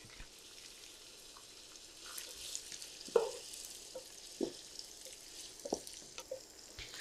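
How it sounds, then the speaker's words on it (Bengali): About 300 grams of chopped onions fry in hot oil for biryani, giving a soft, steady sizzle with a few sharp clinks of stirring, quiet and close throughout. "তেলটা গরম হয়ে গেছে, আর এখানে পেঁয়াজগুলো দিয়ে দিচ্ছি।"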